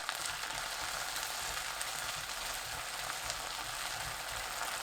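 Garlic cloves stir-frying with green Cheongyang chili and red chili peppers, oyster sauce and corn syrup over low heat give a steady, even, close sizzle throughout, with no talk.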